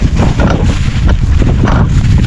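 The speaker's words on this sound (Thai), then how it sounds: "นี่ลมนะเนาะ" Strong wind buffets the microphone in a steady, loud roar while a kite is flown high in open rural country in Isan, Thailand, with no talk.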